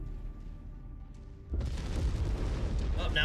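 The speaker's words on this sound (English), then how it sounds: "With all this explosions going off," Heavy booming blasts in a game erupt about halfway through, a dense rumbling barrage of explosions that continues loud to the end.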